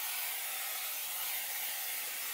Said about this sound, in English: I'll just spray it with no stick spray